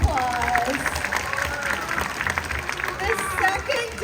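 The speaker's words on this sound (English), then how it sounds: "Let's give her a round of applause." Crowd applause at an outdoor seal and sea lion show at Hersheypark, moderate and fairly distant clapping under a presenter's amplified voice, with scattered crowd noise around it.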